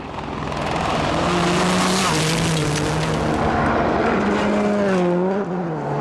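Petter Solberg's Subaru rally car races along a loose gravel stage, its engine snarling loudly at high revs with gear-change pitch sweeps, while a commentator talks over the run.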